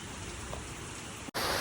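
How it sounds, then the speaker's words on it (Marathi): Dense, steady hiss of heavy rain pouring down close by on farm fields, unbroken apart from a brief cut near the end. "जाम गरम पाऊस पडतोय"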